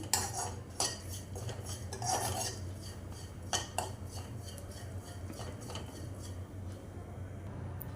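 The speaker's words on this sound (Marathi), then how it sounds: "आता 2 चमचे सफेद तीळ मी घालणार आहे याच्यामध्ये आणि 1 चमचा खसखस घालणार आहे. हे सगळं एकत्रच आपण छान परतून घ्यायचं आहे." White sesame and poppy seeds being stirred and roasted in a pan for Govinda ladoo: a spoon scrapes and clinks against the metal pan in irregular strokes, with a low steady hum beneath.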